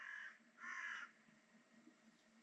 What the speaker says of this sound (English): I can hear ravens also